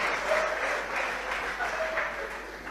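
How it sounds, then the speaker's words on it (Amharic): Congregation at a sermon claps together, a fairly even round of applause with some faint voices mixed in beneath it. "አጨብጭቡ።"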